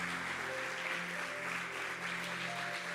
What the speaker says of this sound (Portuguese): Aplauda ao Senhor pelo pastor dessa igreja